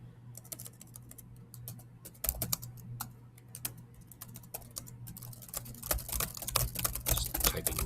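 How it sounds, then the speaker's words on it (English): Rapid clattering keystrokes on a computer keyboard, irregular at first and then a fast flurry of typing over a low steady hum. "just typing random characters because that will take up more space"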